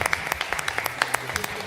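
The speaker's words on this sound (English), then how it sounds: "One final round of applause then." An audience at the eFootball Championship 2025 FC Barcelona club finals gives a brief round of applause: scattered, fairly sparse claps at moderate distance, with a voice speaking over them.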